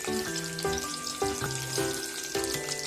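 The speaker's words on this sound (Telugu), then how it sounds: "నేను కరివేపాకు వేస్తున్నాను" Curry leaves hit hot oil for a chicken fry and crackle in a close, steady sizzle. Faint sustained tones run over the frying.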